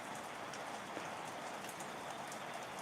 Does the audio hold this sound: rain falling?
yes